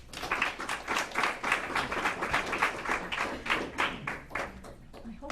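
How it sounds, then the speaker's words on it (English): Applause from an audience at a town zoning board meeting, a dense run of claps holding steady for several seconds before thinning toward the end. "I hope I get as much applause"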